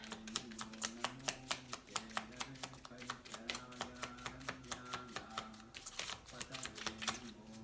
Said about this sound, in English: I have to shuffle the deck like this